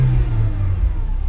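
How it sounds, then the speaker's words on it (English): A supercharged car engine drones low and close in a brief, continuous burst of throaty rumble. "It sounds like a supercharger."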